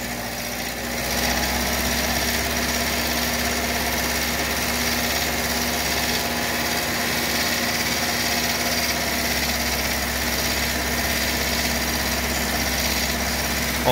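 A Volkswagen Fox 1.0 engine with a noise problem holds a steady rev around 2000 RPM, a continuous close droning hum with engine vibration.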